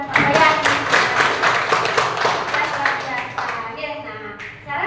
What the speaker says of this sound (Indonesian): tepuk tangan dulu buat Pak Wayan